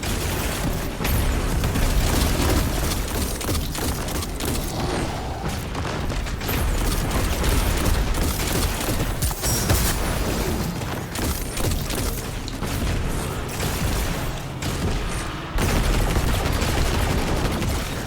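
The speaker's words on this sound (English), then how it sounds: "Just keep chucking grenades, using heavy, blasting them." Dense, continuous video-game combat in Lake of Shadows: rapid bursts of gunfire overlap with heavy grenade blasts and deep booms, loud and relentless throughout with no pause and no talk.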